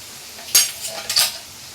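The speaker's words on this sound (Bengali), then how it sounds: "আমার আলুগুলো ভাজা হয়ে গেছে, আমি আলুগুলো এবার তুলে নেব।" Fried potatoes lifted one by one from a hot frying pan, giving a few brief scraping clinks of a utensil against the pan over a soft sizzle, two clear bursts close by.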